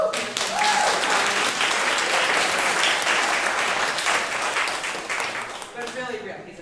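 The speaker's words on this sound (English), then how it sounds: "Will you please give him a round of applause?" Audience at a civil liberties organization's annual meeting breaks into sustained applause and clapping, loud and steady for several seconds before tapering off, with faint voices underneath.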